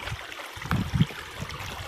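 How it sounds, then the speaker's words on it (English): Water flowing steadily over a small artificial creek waterfall built from piled rocks, a soft continuous babble close by with a couple of brief splashy bursts. "Made a little waterfall there."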